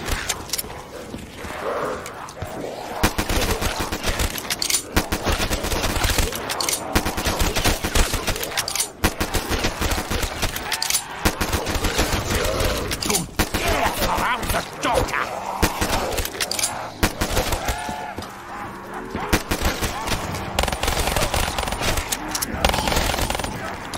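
Rapid automatic gunfire in Black Ops 3 Zombies, long dense bursts with short gaps over a steady game backdrop, a player's voice occasionally heard beneath the shots.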